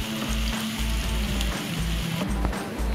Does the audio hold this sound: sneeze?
no